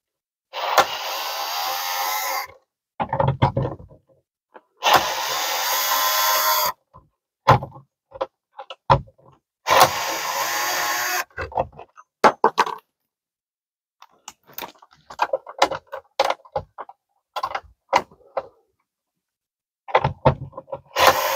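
A powered screwdriver spins out Phillips screws from a popup camper's power converter faceplate in several short whirring bursts, separated by quiet gaps and small clicks and taps of handling.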